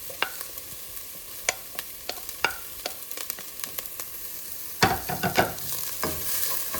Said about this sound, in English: So now we can add the ginger and garlic, which is grated, into the mix.